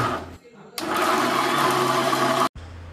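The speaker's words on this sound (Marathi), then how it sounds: "कांद्यांबरोबर टोमॅटो पण टाकून घेतला आणि मिक्सर लावला।" A mixer grinder whirs loudly for about two seconds as it blends roasted onions and tomatoes, a steady high-speed motor drone that starts abruptly and cuts off sharply, with a brief quieter stretch before it.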